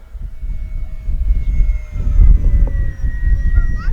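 An RC P-51D Mustang model airplane making a full-speed pass into the wind, its engine droning loudly and steadily and swelling as it comes by, heard outdoors.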